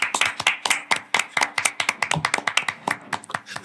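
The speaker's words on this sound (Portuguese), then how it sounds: "Tomar uma salva de palmas." A small group claps in a studio to welcome guest Newton Molon onto a Brasília podcast set, the hand claps sharp, distinct and close, in a quick uneven patter that keeps going the whole time.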